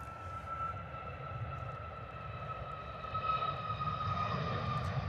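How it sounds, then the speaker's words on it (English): A Ryanair airliner taxis at London Stansted Airport, its engines giving a steady distant whine and broad rumble that swells slightly toward the end, with no voices. "Look how fast that Ryanair's taxiing."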